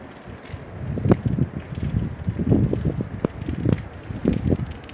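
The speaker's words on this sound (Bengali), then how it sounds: "যেমন বাতাস তেমন ঠান্ডা" Strong, cold mountain wind sweeps through Yumthang Valley in bad weather, gusting in rough low rumbles that buffet the microphone in repeated surges across the whole stretch.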